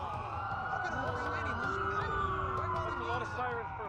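Wailing police sirens from the Watch Dogs video game sweep steadily through the whole stretch, loud and continuous over a low rumbling city backdrop, with voices speaking alongside.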